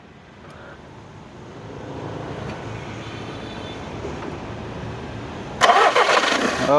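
A car engine cranks and catches after a long stretch of low idle-like rumble, bursting into a loud, close start near the end, with the automatic gear set in park and no voices.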